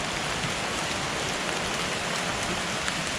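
Steady rain falls through a jungle, a continuous dense hiss of drops striking leaves and surfaces, even and fairly close, with no voices over it.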